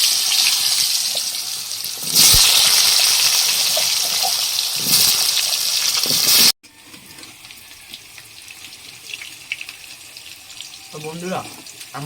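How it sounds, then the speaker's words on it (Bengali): Potatoes drop into hot oil with browned cumin in a home kitchen and set off a loud, steady sizzling hiss for about six seconds, which then cuts to a quieter, fainter background. "জিরাটা লাল হয়ে গেছে আর আলুগুলো ছেড়ে দেবো"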